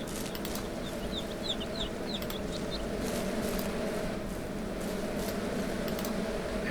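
Chickens clucking in the farming game Ranch Simulator, a few faint chirpy calls early on over a steady ambient game hum, with no talking.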